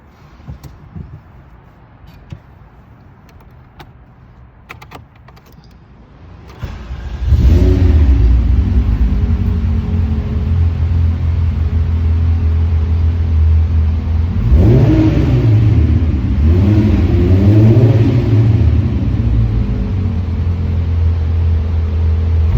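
A 1990 VW Jetta Coupe with a VR6 engine cranks and catches, then settles into a loud, close idle with a couple of rising revs partway through. Fans hum underneath.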